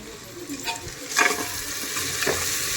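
Whole spices, cinnamon and clove, fry in hot oil, making a close, steady sizzle with a few brief scraping stirs layered over it.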